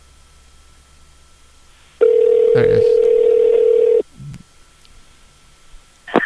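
A telephone ringback tone on a call being placed again after a dropped connection, one loud steady tone lasting about two seconds, with a brief voice before and after.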